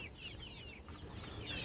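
Chickens clucking softly in a flock, probably backyard poultry, with several short high calls repeating over steady farmyard background noise and no talk.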